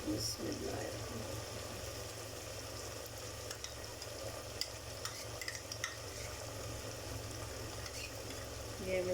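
Browned onions and ginger garlic paste fry in a pot for aloo gosht, giving a steady close sizzle with scraping stirs throughout and someone speaking over it.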